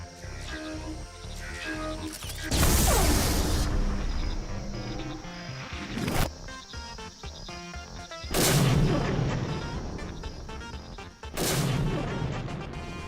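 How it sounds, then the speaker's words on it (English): Fireworks explode in the VR video game Gori: Cuddly Carnage, four loud booming bursts at irregular intervals, each crackling and fading, with a sharp crack between the first two. "The fireworks look really nice in VR too."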